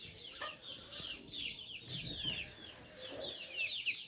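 Several chickens cluck and chatter continuously at a moderate distance, soft repeated calls overlapping with a faint outdoor background.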